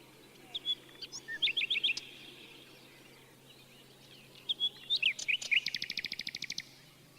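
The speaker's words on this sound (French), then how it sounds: "Le rossignol," Nightingale song rings out in two clear phrases, each a run of sharp whistled notes and trills ending in a rapid repeated chirping series, fairly close over a quiet low hum.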